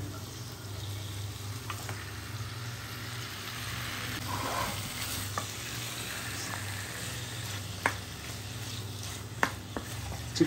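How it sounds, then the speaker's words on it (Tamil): Chicken with garam masala sautés in a pan with a soft, continuous sizzle under a low hum, broken by a few sharp clinks of a utensil against the pan near the end. "நல்லா வதக்கலாம்."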